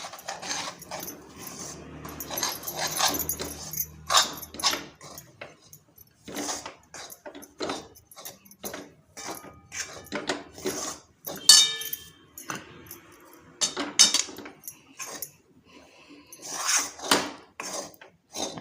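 Rice flour dough for ukadiche modak being stirred into boiled water in a pot, with irregular scraping and clanking of the spoon against metal, some quiet gaps between bursts.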